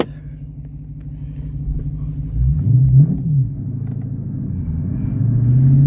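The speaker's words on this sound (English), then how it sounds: "here comes the car" A car approaches along a road under a steady deep engine rumble that swells around the middle, eases, then builds again toward the end, with no talk.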